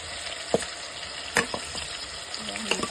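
Marinated broiler chicken fries with onions in a kadai, a constant crackling sizzle broken by a few sharp scrapes and clinks of stirring.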